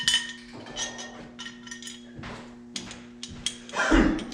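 A bushing is driven into a door hinge on a Dodge D-150 truck by hammering on a bolt: a series of sharp metallic clinks and taps at irregular intervals, close and fairly quiet, over a low steady hum.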